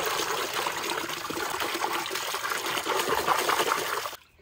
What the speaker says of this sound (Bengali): এবার জল ছেড়ে ভালো করে ধুয়ে নেবো